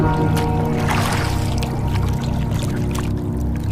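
A boat glides across a river, with water sloshing and gurgling close by against the hull over a low steady hum, continuous throughout and without speech.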